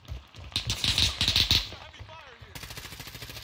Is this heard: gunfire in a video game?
yes